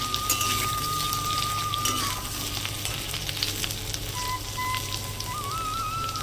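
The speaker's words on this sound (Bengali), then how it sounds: "লো করে ভাজলে তেলটা আমার টেনে নেবে পুরোপুরি" Eggplant frying in oil on low heat, a continuous close sizzle full of fine crackles and pops, joined by a thin steady whine in the background.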